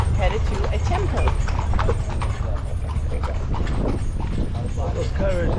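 Horse hooves clip-clop steadily as a horse and carriage travels through the town of Esna, Egypt, toward a temple, the hoofbeats mixed with constant road and crowd noise and people talking close by.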